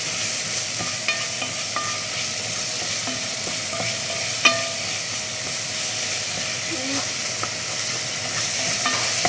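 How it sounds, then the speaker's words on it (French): A spoon stirs fish filling seasoned with parsley and pepper in a pan, giving a soft, continuous hiss and sizzle with faint scraping clicks throughout. "Persil et un peu de poivre et je mélange, c'est bien mélangé."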